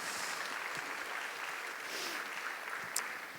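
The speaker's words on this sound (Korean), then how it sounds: "박수로 한번 영광 돌리겠습니다" Church congregation clapping at a Sunday afternoon service in Ansan, a steady even wash of applause heard from a little distance, moderately quiet and continuous throughout with no voices standing out.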